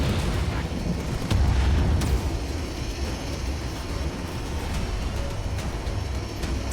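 Cannon fire pounding carrier shields in the video game Halo Wars, with rumbling blasts and sharp impacts over a dense, continuous battle din.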